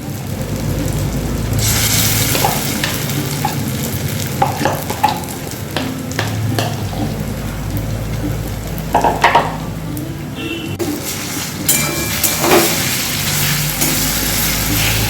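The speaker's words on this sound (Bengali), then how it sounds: "আমার তেল গরম হয়ে গেছে। এবার এটা আমি ছেড়ে দিচ্ছি এই ব্যাটারটা, ডাল বাটাটা ছেড়ে দিলাম।" Lentil-paste batter crackles and sizzles in hot oil, a dense, loud frying hiss with bursts of popping and occasional stirring or utensil clinks, close up and without talk.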